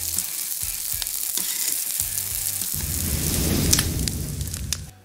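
Fried rice in the style of Uncle Roger sizzles loudly in a pan, a dense crackling hiss with occasional stirring knocks and scrapes that builds slightly before fading at the end.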